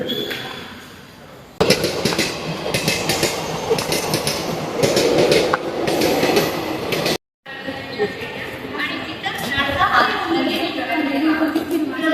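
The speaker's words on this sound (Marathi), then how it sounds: "ट्रेन येते आता" A Tutari Express passenger train runs along the rails with a steady rumble and clattering wheels, loud and close. Background voices mix in, and the sound cuts out briefly near the middle.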